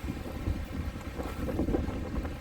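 Strong gusting wind buffets the microphone outdoors near a small castle or tower on the outskirts of Brussels, a loud, continuous low rumble with no voices.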